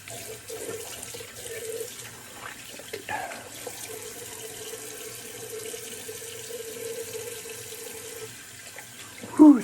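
Tap water runs steadily into a sink during a wet shave, a soft continuous splashing with a faint trickle throughout and a brief louder clunk at the very end.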